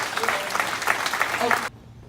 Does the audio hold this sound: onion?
no